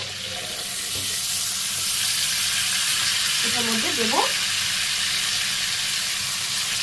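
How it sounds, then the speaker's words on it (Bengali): Chicken pieces frying in melted butter with a little white oil for creamy malai chicken, a steady close hissing sizzle throughout while someone briefly speaks over it. "দিয়ে মাংসটাকে ভালো করে এপি টপি ভেজে নেব"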